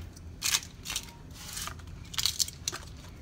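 A knife slices through an onion on a board, a few crisp crunching cuts in quick bursts, close and quiet against a soft background hum.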